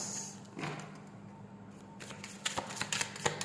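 Tarot cards are shuffled by hand in a run of soft, papery riffles and flicks, quiet at first and then brisker, with sharper card snaps toward the end and no speech.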